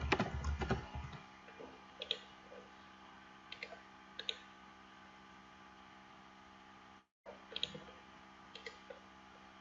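A password is typed on a computer keyboard in a few sparse, quiet clicks over a steady low electrical hum, with a short burst of handling noise at the start and a momentary dropout near the end.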